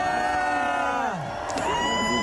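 A large crowd of around 50,000 people at Place de la Concorde cheers the French finalist team, with sustained whoops and shouting blending into a dense, continuous roar.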